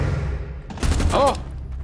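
Rapid burst of video game gunfire during a match, fired in a short loud volley with a ringing ricochet-like tone, sounding close over a continuous low background.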